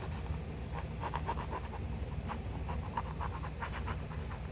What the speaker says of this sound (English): I always run my nail right on those edges really well